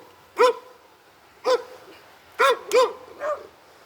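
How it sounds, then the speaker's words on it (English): Five sharp barks from a dog or two, spaced irregularly, fairly close, over a quiet background. "I don't know what they're barking at."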